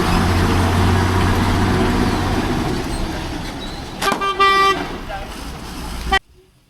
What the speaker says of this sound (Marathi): हे बघा मित्रांनो, साखरप्यातून आले गाडी आता.